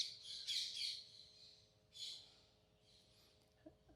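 Parrots squawk in the morning outdoors, with a few loud harsh calls early on, another burst around two seconds in, and softer chirps fading after, distant and unaccompanied by speech.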